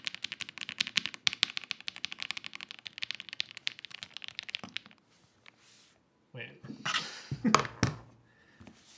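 Mechanical keyboards are typed on in a dense run of quick, crisp clicks for about five seconds, followed by scattered thumps and rustling handling noises.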